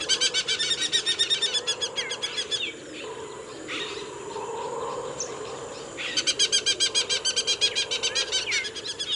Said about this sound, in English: we saw a couple of aplomado falcons nesting in a tree